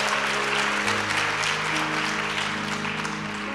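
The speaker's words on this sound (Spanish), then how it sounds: "Dale un aplauso al Señor, porque es así." Church congregation applauding during a Christian worship service, a steady broadband wash of clapping that stays level for the whole stretch, with low sustained tones underneath.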